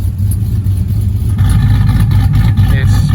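A supercharged 2010 Ford F150 pickup with a 5.4 engine, Detroit Rocker cams and headers revs up from a steady idle, the deep engine note rising and growing louder, close and alone.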